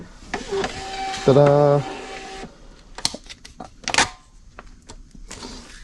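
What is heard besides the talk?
label printer printing a shipping label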